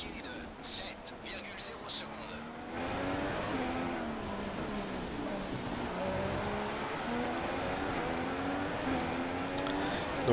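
Race car engines in the F1 2016 game at the Singapore circuit, a steady high-pitched whine with shifting revving tones after a few clicks, while someone talks over it throughout.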